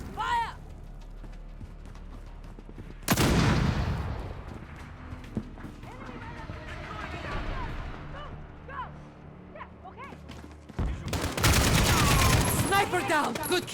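Bursts of gunfire from the video game Call of Duty: Modern Warfare (2019): loud sustained volleys at the start and again near the end, with scattered shots and game noise between.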